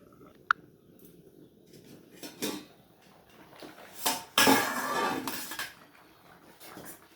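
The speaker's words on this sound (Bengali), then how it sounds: "এবার আমি একটা পাত্র দিয়ে ঢেকে দেবো" A cooking pot of papaya with lentil pakoras being covered with another metal vessel, giving a sharp early tap followed by soft metallic scrapes and a louder clattering clink, close by.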